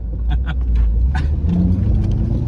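A 2002 Chevrolet Corvette Z06 engine rumbles steadily and loudly, with a slight rise in revs partway through and faint voices in the background.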